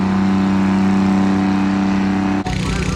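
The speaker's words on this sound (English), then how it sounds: "you know it's the county fair old tractor pull when you hear that sound" A vintage tractor at a county fair tractor pull makes a loud, steady engine roar with a strong low drone, running continuously, then shifting abruptly near the end as the pitch drops.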